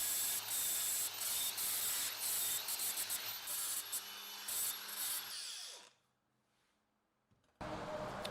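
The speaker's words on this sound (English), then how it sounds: "mostly grinding the weld smooth in some of the more visible areas" An angle grinder rasps steadily across welds on a metal desk frame, loud and continuous with a high whine for about six seconds, then stops abruptly before a short burst resumes.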